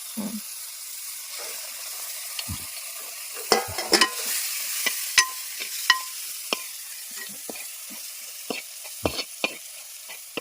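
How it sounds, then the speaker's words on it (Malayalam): Beef curry sizzles in a pan while it is stirred, with a quiet frying hiss broken by sharp, irregular scrapes and clacks of the spoon against the pan. "നമ്മളിതിൻ്റെ പച്ചമണം പോകാൻ വേണ്ടിയിട്ട് ഒന്ന് പതുക്കെ ഒന്ന് ഇളക്കി കൊടുക്കും."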